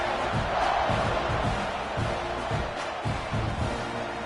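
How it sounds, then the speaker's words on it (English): Football stadium crowd buzzing after a touchdown in a college game between Texas A&M and Alabama, a steady loud roar of many voices with swelling cheers and shouts throughout. "this crowd is buzzing after that last score"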